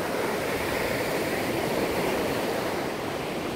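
Rough sea surf at Praia do Morro beach in Guarapari under a storm warning for large waves, a continuous dense wash of breaking water, moderately distant and unbroken, with no voices.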